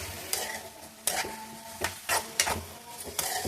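Brinjal (vankaya) fries in a pan for Andhra-style stuffed eggplant fry, with a steady sizzle under repeated scraping stirs of a spoon against the pan, about six distinct strokes, close and clear.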